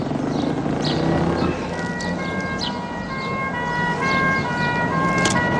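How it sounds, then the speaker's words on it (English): An ambulance siren wails steadily under a dense background wash, sounding fairly close and loud throughout, with no talk over it. "Ambulance?"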